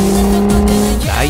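Toyota GR86 drifting in an Initial D video game, tires squealing loudly over a high revving engine, with the pitch sliding and shifting as the car slides through a fast corner.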